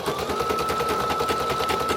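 Embroidery machine stitching a name onto fabric, a fast, loud, continuous mechanical chatter of rapid needle strikes with a steady tonal hum underneath, close and uninterrupted.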